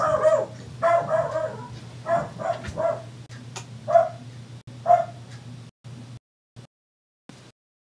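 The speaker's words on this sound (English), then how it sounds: "there was somebody at the front door. That's why he was losing his mind" An indoor dog barks repeatedly at someone at the front door, loud and near, with uneven bursts of barking and yips over a steady low hum before falling quiet.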